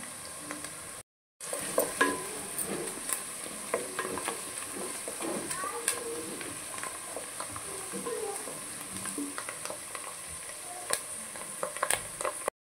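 Curry leaves dropped into frying mutton crackle and sizzle in hot oil, a busy close spattering with frequent small pops and stirring sounds, no speech.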